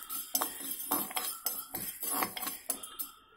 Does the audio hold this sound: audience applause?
no